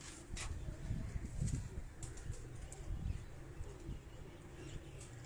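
Nera breed pigeons from a Karachi loft coo on a rooftop, soft low repeated calls at moderate distance over a steady outdoor hum, with a few faint chirps and a brief flutter of wings.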